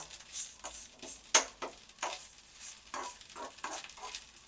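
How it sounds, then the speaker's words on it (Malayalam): Rock salt crystals stirred in a hot pan give a dry rattling scrape, with repeated rhythmic sweeps and a faint sizzle, close and alone without talking. "നല്ലൊരു ടേബിൾ സ്പൂൺ ഉപ്പ് അതിനകത്തോട്ട് ഇട്ട് കൊടുക്കാം പരലുപ്പാണ് പൊടിയുപ്പല്ല പരലുപ്പ് അത് ഒന്ന് ഇങ്ങനെ ഒന്ന് ഇളക്കി"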